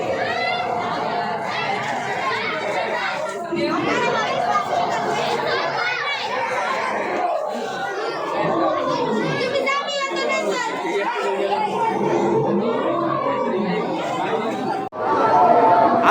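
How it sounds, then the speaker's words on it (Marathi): A crowd of visitors, children among them, chatters continuously while waiting in a queue at a cave-themed festival display, a dense close wash of overlapping voices and shouts. "या ठिकाणी बघू शकता गर्दी आहे"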